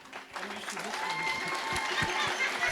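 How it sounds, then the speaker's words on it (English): A banquet crowd at a Colorado Hall of Fame event applauds steadily, a close, dense wash of clapping that swells after the first half second and holds loud throughout. "all your friends standing up, clapping your hands"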